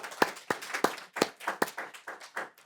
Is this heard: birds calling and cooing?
no